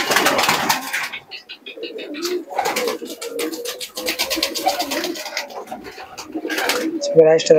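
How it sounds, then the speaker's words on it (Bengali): Female pigeons of an Andhra racing breed coo in short repeated phrases close by, with other birds calling and flapping around them and someone talking over parts of it. "এবার দুটো মাদিন কবুতর দেখাবো"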